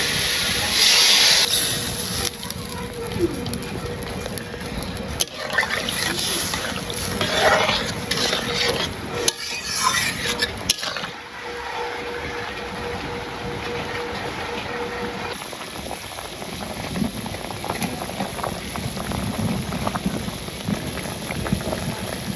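Liquid poured into a vegetable curry sets off a loud hissing, bubbling boil with steady steam noise and occasional stirring knocks, close and continuous over a long stretch.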